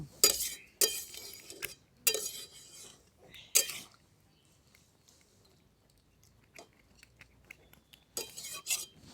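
A cooking pot lid is handled while village-style sambar cooks, producing several quiet, sharp metallic clinks in sparse clusters with near-silence between them.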